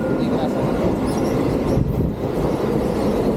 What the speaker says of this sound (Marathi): ही कल्याण ट्रेन गेलेली आहे